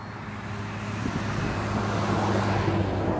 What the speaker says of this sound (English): Lots of traffic on this highway